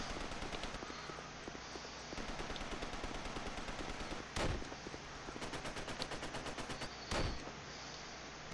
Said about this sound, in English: Sounds like somebody's shooting at him.